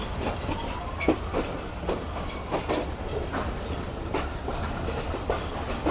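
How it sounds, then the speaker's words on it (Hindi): A ten-coach passenger train rolls along the rails with rhythmic clickety-clack wheel beats and faint wheel squeal over a continuous rumble, heard from close by. "टोटल 10 डब्बों का रेक जा रहा है।"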